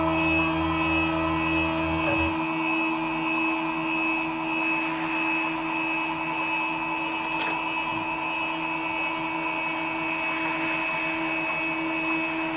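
A CNC machine, its controller recently upgraded, travels to its machine home position with a steady mechanical hum and whine, holding constant with a faint click partway through and a brief lower tone early on.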